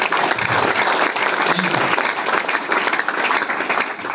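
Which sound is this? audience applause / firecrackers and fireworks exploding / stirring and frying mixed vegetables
audience applause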